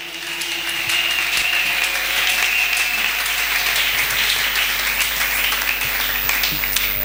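A church congregation applauding Jesus, steady sustained clapping from a crowd that builds quickly and carries on loudly throughout.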